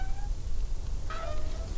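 A cat meows in the Deponia Doomsday video game: two short, tonal meows, one at the start and one in the second half, heard clearly over a low background hum.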